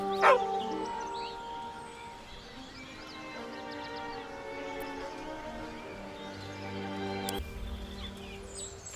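A dog in the video game Baldur's Gate 3 gives a few short barks and whimpers near the start, then falls back under a steady game music bed and ambient tones.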